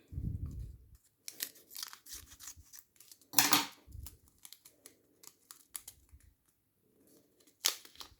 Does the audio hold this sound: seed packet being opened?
yes